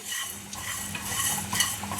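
Ingredients being dry roasted in a pan for holige saaru, with steady scraping and stirring rasps and a faint sizzle running continuously, close and moderately loud, no voices.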